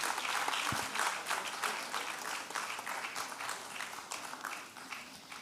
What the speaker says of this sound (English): Please, shall we clap for her till she makes it to the stage?